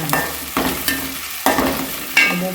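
Onions fry in hot oil with curry leaves for a chicken curry, a close, loud continuous sizzle punctuated by four sharp stirring scrapes of a spoon against the pan.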